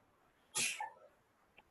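A single sharp sneeze bursts out in a quiet committee meeting room, loud and close, trailing off quickly, followed by a faint small sound.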